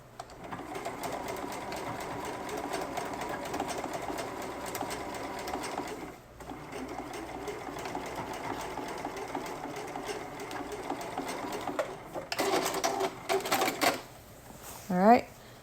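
A sewing machine stitches the side seam of an elastic-waist skirt in long, rapid mechanical runs with brief pauses and a few louder bursts and clicks near the end, with no talk over it.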